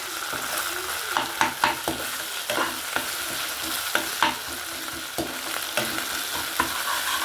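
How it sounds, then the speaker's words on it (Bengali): Ginger-garlic paste and onions frying in a pan, stirred with repeated scraping strokes over a steady sizzle, close and moderately loud with no talking. "আদা রসুনটা বেশ ভালো করে ভাজতে হবে, যাতে আদা রসুনের উগ্র গন্ধটা না থাকে।"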